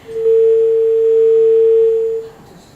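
A single steady telephone tone sounds after a radio broadcast phone call drops. It is loud, pure and unbroken for about two seconds, then cuts off into quiet background.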